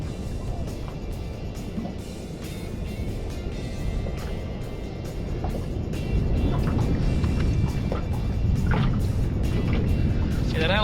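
A boat on the water during snapper fishing off Newcastle, NSW, gives a continuous broadband rumble with water noise, steady and close, slightly louder in the second half, with scattered faint clicks and no clear talking.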